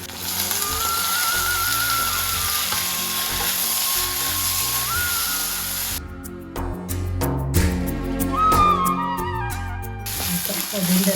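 Onion fries in hot oil in a pan for a ridge gourd palya, a steady sizzle running under background music that cuts out midway, leaving clattering and stirring noises before the music returns.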